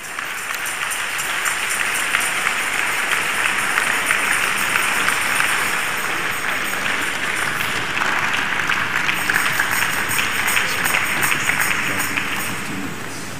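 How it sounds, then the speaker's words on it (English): Crowd at a pastor's birthday public lecture clapping hands in a sustained, thick wash of applause that holds steady and loud from start to finish. "Please let's clap our hands"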